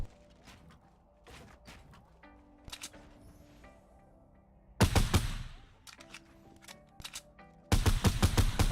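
Fortnite Battle Royale gunfire: bursts of rapid shots in two loud clusters, with quieter game sounds and scattered clicks between them.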